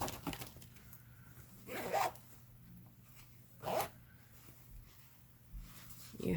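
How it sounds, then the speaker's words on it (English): The double zipper on a backpack's main pocket is pulled open, giving two short, close zipping rasps about two seconds apart against quiet background noise. "It's a double zipper pull for the main pocket"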